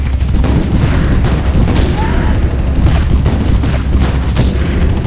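Gunfire and explosions in the video game Art of War 3, a dense, continuous barrage of booms and rattling shots, loud and unbroken throughout.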